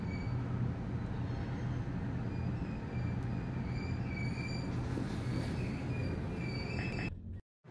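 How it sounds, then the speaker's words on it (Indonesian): A train rumbles past steadily and close at a railway crossing, with a faint metallic squeal of wheels above the heavy rolling noise, ending abruptly. "kita kena macet karena ada kereta api yang lewat"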